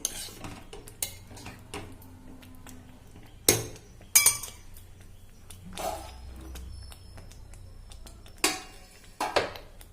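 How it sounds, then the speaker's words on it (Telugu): A metal lid goes onto a pot of brinjal masala curry simmering on low heat, with a few sharp clinks and clatters of cookware separated by quiet gaps, close by and with no talking. "మూత పెట్టుకుందాం"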